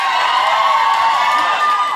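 A studio audience at a British television chat show cheers and whoops loudly and steadily, a dense crowd roar filling the whole moment without a break.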